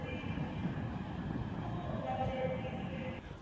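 A train rolls into Crewe station on the West Coast Main Line, a steady close rumble of wheels and carriages filling the platform with a faint tonal whine above it.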